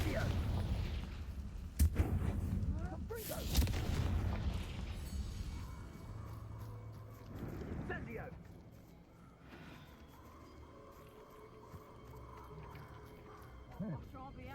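Confringo blasting-spell explosions in the video game Hogwarts Legacy, heavy broadband bursts landing in quick succession early on, then a calmer rumbling stretch with further scattered magical impacts and a voice talking over the action.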